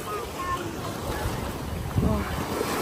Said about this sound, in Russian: Да, сегодня волна, говорят,